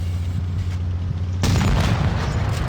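A tank in WoT Blitz fires a high-explosive round, a loud booming blast that breaks over a steady engine drone partway through.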